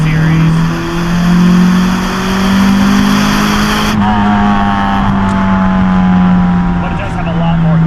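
Honda Civic EK with a JDM H23A engine swap accelerating from the driver's seat, a loud engine note climbing in pitch, a gear change around the midpoint, then revving up again, with talk over it.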